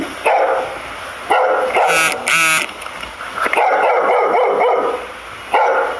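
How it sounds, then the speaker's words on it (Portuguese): A dog barks repeatedly at a delivery stop, sharp loud barks and yelps in several bursts over steady background noise, fairly close. "Olha o cachorro. Melhor amigo do motoboy, cachorro."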